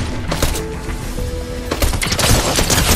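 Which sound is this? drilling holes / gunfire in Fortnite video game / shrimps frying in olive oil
gunfire in Fortnite video game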